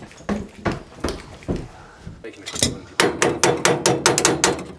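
Hammer blows on boiler nuts during a sports centre boiler replacement, loosening them: a series of sharp metallic strikes, irregular at first, then a quick steady run of about eight close, loud hits.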